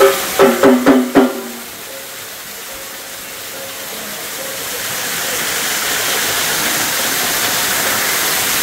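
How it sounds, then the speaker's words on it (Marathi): Waterfall roaring as a steady, dense wash of rushing water that builds slightly and holds, with a quick burst of rhythmic mechanical clicks at the very start. "येथून दिसणारे धबधब्याचे सुंदर दृश्य।"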